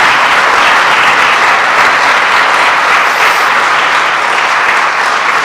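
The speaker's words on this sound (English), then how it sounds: "Let's give a round of applause to all the great innovators in American agriculture today." A large crowd at a National Ag Day celebration at USDA claps in loud, sustained applause that fills the space evenly from start to finish.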